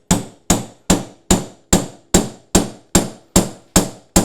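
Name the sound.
hammering wood through a dowel plate to make a dowel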